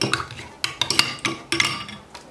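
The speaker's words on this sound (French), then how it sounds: "vous allez mettre une cuillère de café à l'intérieur. Et vous allez remuer." A metal spoon stirs coffee in a cup of hot water, giving a quick run of sharp clinks against the sides in uneven bursts, close and alone.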